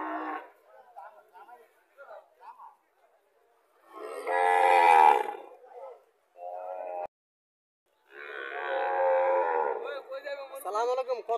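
Cattle and a calf moo in loud, drawn-out bellows at a village livestock market in Chauddagram, Comilla, with people talking between the calls.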